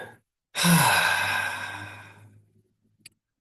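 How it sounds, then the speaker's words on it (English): During a qigong breathwork exercise, a short intake is followed by one long, deep, audible exhale, close and breathy, fading over about two seconds before silence. "let's take a deep breath here just to integrate that connection to nature"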